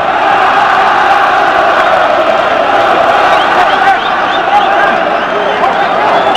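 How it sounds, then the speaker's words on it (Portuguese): Home São Paulo supporters roar and chant without pause in a stadium at Santa Bárbara during a 2001 Campeonato Paulista match, a loud, dense wall of crowd noise with rising whoops and shouts. "A torcida tricolor sobe aqui em Santa Bárbara."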